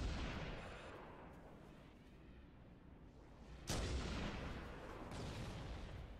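Wraith tank artillery fire in a Halo battle, a heavy boom landing near the player around the midpoint with a rumbling tail, following a fading earlier blast, with no talk.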